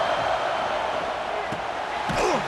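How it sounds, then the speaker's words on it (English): Dense stadium crowd roar in a college football video game featuring Notre Dame, a steady loud wall of cheering throughout, with brief sharp knocks and a sweeping tone near the end. "Listen to this crowd just shaking the girders"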